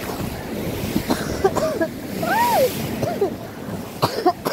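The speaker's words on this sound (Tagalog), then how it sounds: "Galit na galit po yung dagat." Rough, dirty sea waves at high tide along the shore surge and wash loudly, with wind buffeting the microphone. A voice can be heard faintly over the surf.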